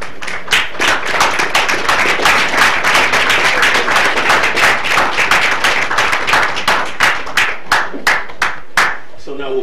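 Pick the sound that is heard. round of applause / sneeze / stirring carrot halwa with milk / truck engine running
round of applause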